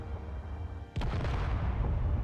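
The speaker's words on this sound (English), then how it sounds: "I'm hearing explosions." A single sharp explosion in the video game Relic Raiders, a sudden loud boom with a rumbling low tail over continuous game background noise.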